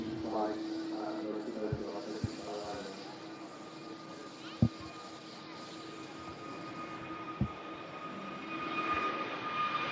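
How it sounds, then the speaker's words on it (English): An EasyJet Airbus A320neo departing Manchester Airport, a steady distant jet engine drone under a commentator's voice, with a few faint knocks. "A320 Neo with EasyJet just departing there as well"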